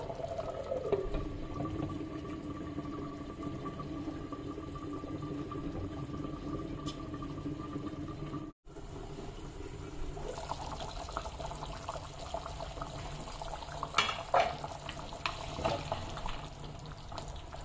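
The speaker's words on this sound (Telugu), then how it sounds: "ఆ సౌండ్ వస్తున్నప్పుడు కుత కుత అని వస్తుందా అని గమనించండి" Village-style chicken curry simmers in a clay pot, a soft, steady bubbling and gurgling up close, broken by a brief dropout partway through.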